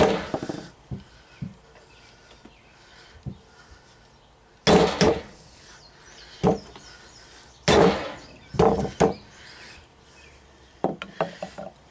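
Heavy hammer blows on metal, freeing a stuck part during a starter generator refresh, land irregularly, about half a dozen sharp strikes with pauses, some in quick pairs, amid faint rattling and handling noise.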